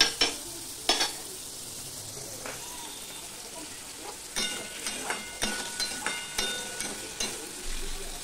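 Chana dal cooking in a pot for a vegetarian bhog khichuri, with quiet scraping stirs and soft clinks spaced out early, then a steadier run of regular stirring knocks over a low simmering hiss.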